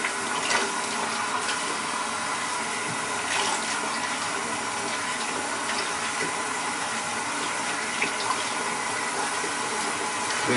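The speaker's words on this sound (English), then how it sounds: "run your water a little warm, wash off" Warm water runs steadily from a bathroom sink tap during a wet shave, a constant loud rushing stream with no voices.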